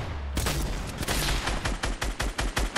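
Video game gunfire in random duos, a rapid, loud burst of shots that starts after a brief pause and then keeps going as a close, rhythmic volley.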